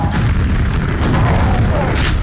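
Booming rocket launcher blasts from a robot-combat video game fill the moment, a loud, continuous low rumble with no clear gaps between hits.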